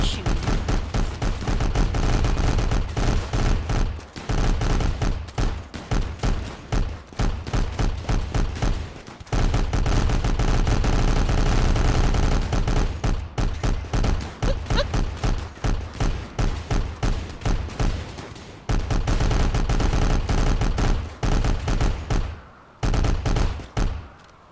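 Video game gunfire, dense continuous bursts of loud rapid shots and automatic fire running for over twenty seconds with only brief pauses, no talking.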